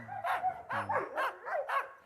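A Yakut hunting laika barks in a quick series of five sharp, yelping barks with short gaps between them, fairly close and moderately loud, with no talk over it.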